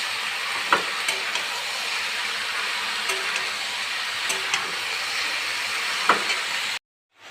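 Momo ingredients, including chicken, frying in a pan with a steady loud sizzle and hiss, broken by occasional stirring scrapes and clinks, ending abruptly in silence.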